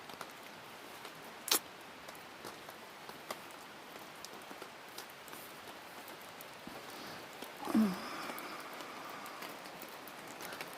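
Rain falling at a campsite on the Upper Clackamas River in mid-October patters steadily and softly, with scattered sharper drips and one louder splash near the end.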